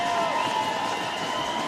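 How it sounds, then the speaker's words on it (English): Crowd at a fixed-gear track bike race in Berlin cheering and applauding as riders set off, a steady, loud, dense roar throughout with a commentator's voice under it. "a roar of applause and noise"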